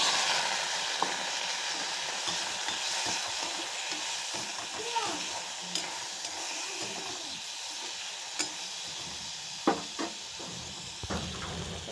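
Boiled mango sizzles and is stirred in a pan with panch phoron, half a dried red chilli and bay leaf, giving a steady frying hiss broken by scattered clicks and scrapes of the spoon.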